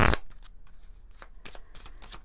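A deck of oracle cards is shuffled close up, with a quick burst of riffling followed by soft, intermittent flicks and slides of the cards in a quiet room.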